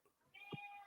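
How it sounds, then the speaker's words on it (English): A house cat gives a single short meow close by, clear and moderately loud over a quiet room with no talking. "Yeah, that was my cat."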